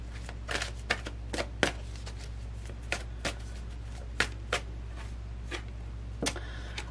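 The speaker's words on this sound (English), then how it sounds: "One card for Capricorn" Tarot cards shuffled by hand in a series of crisp, irregular riffling snaps and flutters, close and fairly loud over a steady low hum, with no talking.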